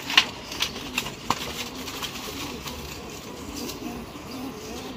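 Pigeons from a flock of about twenty breeding birds cooing in a loft, faint low murmuring under background noise with a few sharp clicks and flutters early on, no one speaking.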